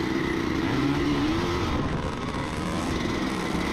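An old vintage motocross bike, slightly smoky and running a rich oil mix, drones steadily at a motocross track, its engine note loud and continuous with a slight rise and fall.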